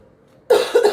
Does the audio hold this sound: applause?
no